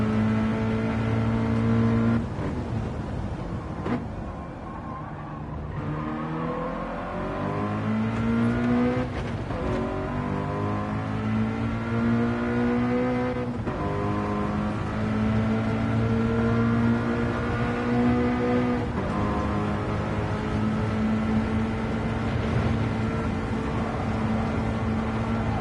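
Onboard a race car on a flying qualifying lap, the engine drones loudly and continuously, its pitch climbing through each gear and dropping sharply at every shift.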